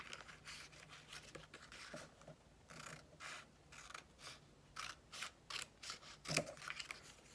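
Scissors snipping out pieces for a Dollar Tree DIY drinking tic tac toe game, a run of short, crisp cuts coming in irregular bursts, close and fairly quiet, with no talking.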